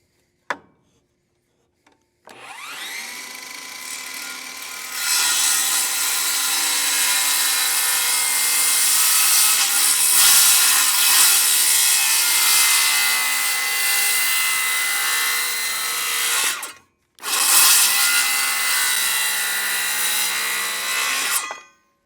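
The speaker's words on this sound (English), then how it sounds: "So I'll just come in here, trim it up 1 blade width." Power saw trimming a blade's width off wood during a shipping-container shop roof build, a loud steady whine that runs for about twelve seconds, cuts out briefly, then resumes for a few more seconds.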